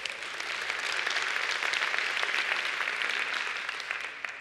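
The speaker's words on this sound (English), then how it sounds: "So give them one more round of applause." Conference audience at a talk gives a round of applause: dense, sustained clapping from many hands that swells slightly, then tapers off near the end, with no speech.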